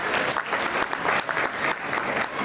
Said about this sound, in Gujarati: હાલો છેલ્લી તાળી જોરદાર.